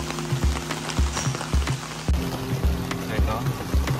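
Heavy rain drums on a car trunk tent beside a Geely Okavango, a dense patter with rhythmic thuds and rattles of the fabric, while low voices murmur underneath.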